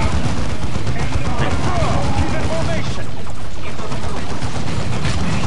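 Grenade blasts and rattling gunfire from the video game Dawn of War 2 crackle in a dense, continuous barrage, loud and close throughout.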